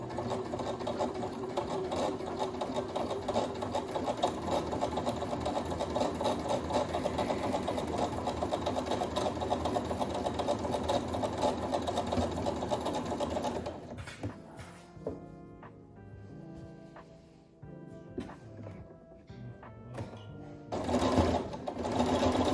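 A sewing machine stitches in a fast, steady run for about fourteen seconds, then stops and starts in short bursts with light handling clatter in between.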